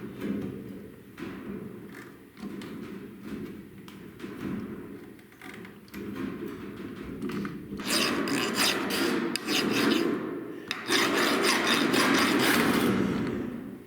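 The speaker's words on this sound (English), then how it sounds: "I've developed this habit of filing down the corners of any piece of sheet metal I'm working on" A hand file rasps along the corners of a sheet-metal piece in repeated back-and-forth strokes, close and steady, the scraping growing louder and harsher in the later strokes.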